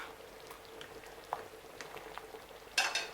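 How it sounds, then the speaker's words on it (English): A pot of Cameroonian peanut butter (groundnut) soup with vegetables and peppers boils on high heat with soft bubbling and a few sharper pops and spatters, faint and close. "I'm just going to allow this to boil for approximately 2 minutes again"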